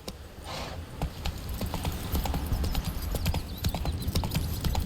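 Steady clip-clop of horse hooves while riding the horse Roach in the video game The Witcher 3: Wild Hunt, a continuous galloping rhythm up close with no voices over it.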